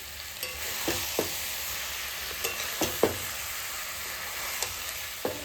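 Fish lightly frying in a pan of hot oil hisses in a steady, dense sizzle, broken by occasional soft clinks and scrapes from stirring, with no voices.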